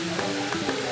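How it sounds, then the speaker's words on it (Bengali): Onion, capsicum, chilli, garlic and spice sizzle steadily in a pan, a brief close hiss with light stirring scrapes. "দিয়ে একটু ভালো করে আর 2-3 মিনিট মতো আপনারা একটু ভালো করে ভাজবেন"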